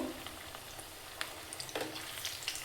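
Aloo bonda, potato fritters, frying in hot oil, with a steady soft sizzle and scattered crackling pops, close and fairly quiet.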